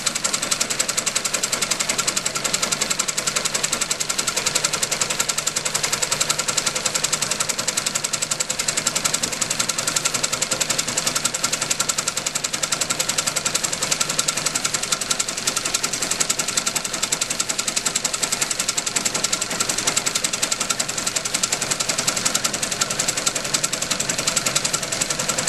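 A sewing machine running a zigzag stitch on a crazy quilt block, tacking the backing in place, with a steady, dense mechanical chatter held at an even loudness for the whole stretch, close and without pauses.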